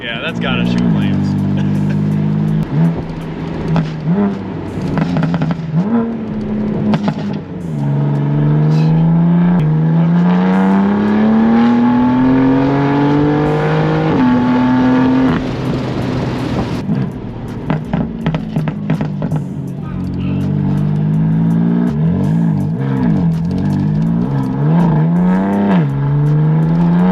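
A Stage 2 tuned BMW M4 with a crackle-and-bang exhaust tune, its engine revving and climbing through gears in long rising sweeps from inside the car, loud and close, with people talking over parts of it.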